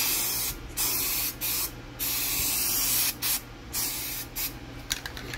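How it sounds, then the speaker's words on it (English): Shellac primer sprayed from a can onto the edges of MDF board, heard as several short hissing bursts of spray broken by brief pauses, close and steady, with no voices. "So don't spray too much, just a light coat."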